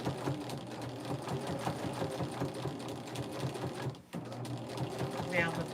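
A sewing machine stitching binding onto the African Queen quilt runs in rapid rhythmic bursts, pausing briefly near the end, while a person talks over it.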